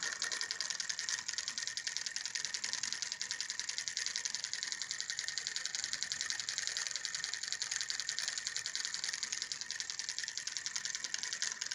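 A homemade solenoid lid motor, driven by a crankshaft and fired by a reed switch, runs with a rapid and steady mechanical clicking at close range, evenly paced and unbroken throughout, with no voices.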